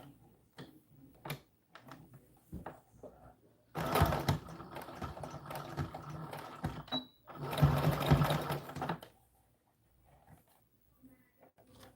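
A sewing machine stitching back and forth on a small American Girl doll dress sleeve: two sustained whirring runs of the motor and needle, close and fairly loud, separated by a short pause, with soft taps and handling noises around them.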